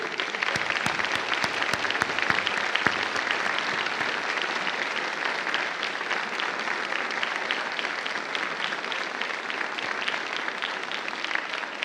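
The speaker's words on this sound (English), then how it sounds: "let's give them a round of applause for helping to support this ministry all these years" Applause from a crowd at an annual banquet for a women's center, sustained dense clapping at an even level from start to finish with no voices over it.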